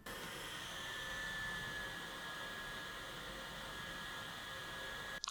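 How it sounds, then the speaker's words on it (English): The tiny 20,000 RPM cooling fan inside a nubia RedMagic 6 Pro gaming phone whirs as a steady, faint airy hiss with a thin high whine, held close and alone, ending with a brief handling click. "That's the sound of the fan in full action."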